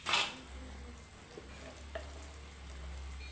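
Ground coconut paste stirred into prawn curry frying in hot oil, with a brief loud splash of sizzle at the start followed by steady low frying and faint scraping from stirring.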